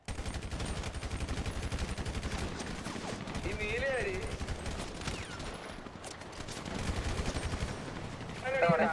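Dense, continuous rapid gunfire crackles throughout with bursts overlapping in a video game firefight, with faint voices mixed in.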